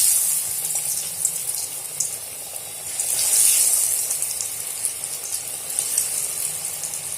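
Potato french fries sizzle in hot oil in a wok over a low-to-medium gas flame, a steady close bubbling hiss that swells slightly midway and carries on alone without talk.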